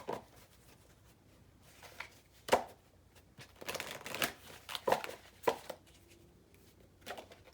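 A tarot deck is handled and shuffled: soft papery riffles, slides and taps of cards come in short irregular bursts, faint and close.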